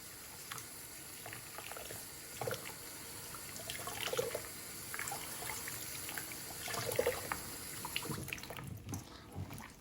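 Range hood filter rinsed under a running faucet, a steady stream of water splashing and spattering against the metal mesh with uneven surges, moderately close and continuous throughout.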